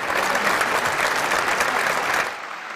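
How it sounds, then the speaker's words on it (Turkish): Applause from council members in a city council meeting hall, steady and dense for about two seconds before dropping to a quieter murmur at the end. "meclis üyeleri tarafından alkışlarla karşılandı"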